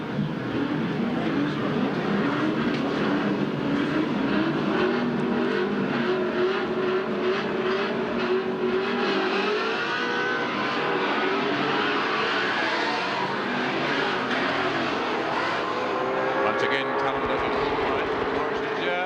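Touring race cars in a 1979 AMSCAR Series race at Amaroo Park, eighteen cars on the grid: loud, continuous engine roar and revving from a tight pack, with commentary spoken over the top throughout.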